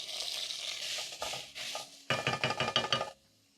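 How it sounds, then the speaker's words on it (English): Sliced onions hit a hot pan of well-seared beef liver, bursting into a loud sizzle, then a rapid series of clinking stirs against the pan before it quiets. "I'm going to throw in my onions"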